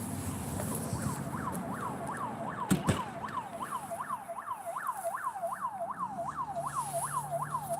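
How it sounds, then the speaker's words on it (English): Emergency vehicle sirens wail outside in a fast, repeating up-and-down yelp, steady and moderately loud against background traffic, with a brief thump partway through. "there's sirens going off over, not on the property I'm at"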